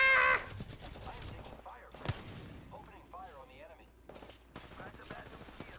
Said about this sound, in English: I hear more gunfire.